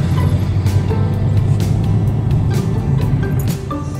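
Dense road traffic jam on a street in Bhubaneswar, a loud, steady rumble of car and truck engines close by, with brief hisses and horn-like tones rising over the drone.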